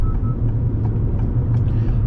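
Naturally aspirated engine of a 2023 Acura MDX Technology heard from inside while driving, a steady low drone and road rumble with no talk.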